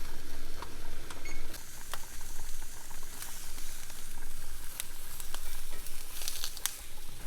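Guajillo peppers char and sizzle in a hot pan, a steady crackling hiss punctuated by sharp pops and the clicks of items being moved.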